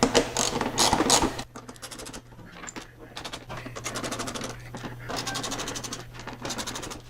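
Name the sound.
tightening fairing bolts with a torque wrench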